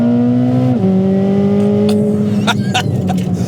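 A 2026 Chevrolet Corvette ZR1 engine holding a loud, buzzy, high-pitched drone up close, its pitch stepping down, then brief clicks and rasps as the revs shift.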